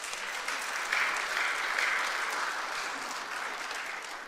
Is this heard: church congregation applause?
yes